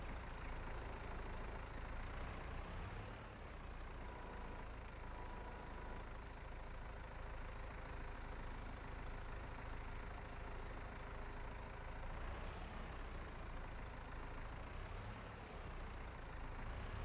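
A tractor engine idles steadily in a farming survival video game, a continuous low rumble with a constant drone and slight shifts in loudness around three and twelve seconds, heard alone without any talk.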